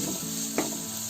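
Onion, tomato and chillies fry in a pan with a steady close sizzle, broken by a short scraping stir near the middle.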